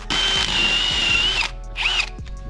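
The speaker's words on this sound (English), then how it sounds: "It's about as big as this drill can handle." Close and loud, a power drill bores a large hole for a boat trailer winch post in one long, steady whine, then stops and gives a shorter second burst.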